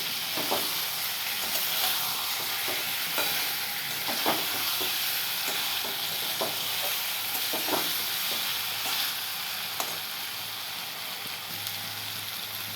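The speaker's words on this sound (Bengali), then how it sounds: "এইবারে ডিম দিয়ে একটু কষাবো কষিয়ে জল দিয়ে দেবো" Eggs stir-fry in a spiced tomato curry in a pan, a constant close sizzle broken by repeated scraping stirs of a spoon.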